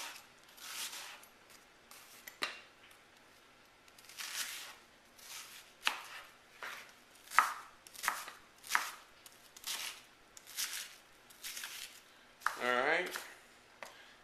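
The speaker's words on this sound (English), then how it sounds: "we're going to go ahead and finish chopping this stuff up" A knife chopping squash and onions on a cutting board in a home kitchen, bursts of quick rhythmic cuts separated by pauses, close and moderately quiet, with a brief scrape near the end.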